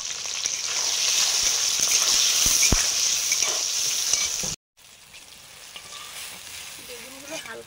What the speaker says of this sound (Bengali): প্রথমে বেগুনগুলো ভেজে নেব।